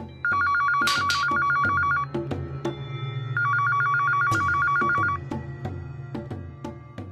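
A phone rings in a domestic scene of a Marathi TV drama, two loud electronic bell bursts separated by a pause, layered over soft background music that fades near the end.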